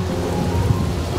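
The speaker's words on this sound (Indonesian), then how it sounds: "Kondisinya hujan." Rain pours down in a steady, loud wash with a deep rumbling undertone, constant from start to finish.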